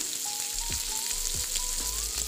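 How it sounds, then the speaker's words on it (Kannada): Food frying in a pan gives a constant close sizzle and crackle, with a faint thin whine and a few soft knocks from the pan, and no voices. "ಈಗ ನಾನು ಫ್ರೈ ಮಾಡ್ತಾಯಿದ್ದೀನಿ ಇದನ್ನು."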